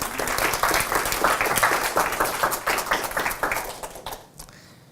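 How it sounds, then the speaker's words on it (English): An audience at a London accessibility meetup, held at a Sainsbury's venue, gives a round of applause. Dense, close clapping runs steadily for about four seconds, then thins and fades out quickly at the end. "Round of applause, please."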